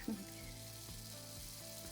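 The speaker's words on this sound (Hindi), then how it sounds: "आप देख सकते हैं ये सिजल, ये मेरा फेवरेट पार्ट है" Spices sizzle and crackle steadily in a hot pan while cooking bitter gourd curry, a continuous close hiss with music-like tones playing in the background.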